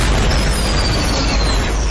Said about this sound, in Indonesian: berlari guna menghindari dahsyatnya bom yang meledak